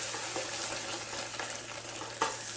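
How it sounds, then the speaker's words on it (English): Flour being stirred into melted butter in a pan for a bechamel roux, a continuous soft sizzle with gentle scraping strokes of the spoon and one sharper tap near the end. "And now we're going to stir in the flour."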